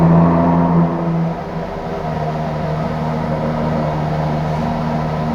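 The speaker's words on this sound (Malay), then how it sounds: "It is always a drama bila nak start enjin Ferrari." A Ferrari V12 engine, from an 812 GTS convertible, drones loudly and steadily nearby. The sound eases slightly after the first second and then settles into a sustained, rumbling idle.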